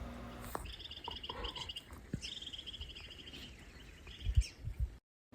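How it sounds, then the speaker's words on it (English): Several different birds call outdoors, mixing high repeated chirps and trilling phrases, with faint insect buzz in the background and a few close rustles. "in the next clip you can hear at least 3 different kinds of birds"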